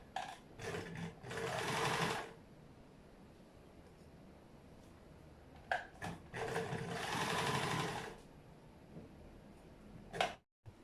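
Domestic sewing machine stitching pieces of a thrifted top together, running in two sustained bursts of about two seconds each with a quiet pause between, followed by a brief final whir.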